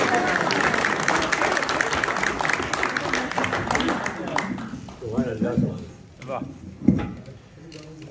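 Audience applause and crowd noise at an Eid Milan mushaira poetry recital, steady clapping that fades toward the end as a voice begins speaking over it.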